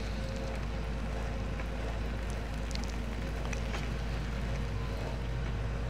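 John Deere 7R tractor running on a farm. Steady low engine drone throughout at moderate level, with faint rattles and clicks over it.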